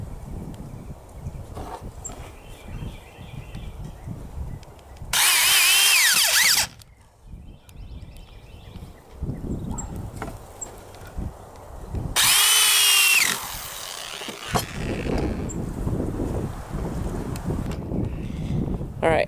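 Power drill driving 1.5 inch pocket hole screws into wooden boards for a toy box frame, two loud sustained whirring bursts with quieter workshop handling noise and thumps between them.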